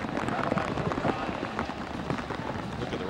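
Steady rain pours over an outdoor college football stadium during a Notre Dame–Michigan game, a dense, even hiss of drops with a faint crowd murmur beneath and no voices.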